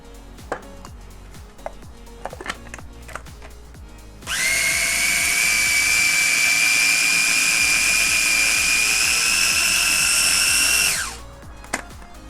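An electric mixer blending cheese with olive oil into a sauce runs loud and steady for about seven seconds with a high whine, between lighter tapping and handling sounds before and after.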